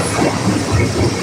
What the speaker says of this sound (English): This is a train that never ends, goes on and on forever.